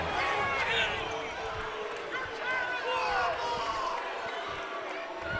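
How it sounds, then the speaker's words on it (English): A college basketball crowd at a WWU vs. MSU Billings men's game roars in a sustained, loud uproar over a foul call, filling the arena as a commentator's voice runs over it. "Uproar from the crowd as Holden is called there on the foul"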